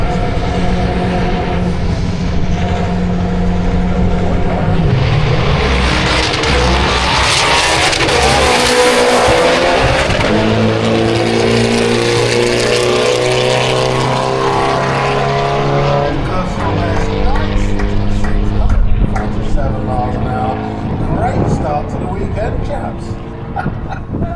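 A stock VW/Audi group car makes a drag strip run, its engine roaring loud and close with rising and falling revs through gear changes, tyre noise and crowd sounds mixed in over roughly twenty seconds.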